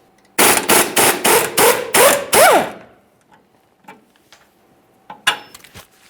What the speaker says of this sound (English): Use an 18mm to hold the mounting nut and a 15mm for the mounting bolt.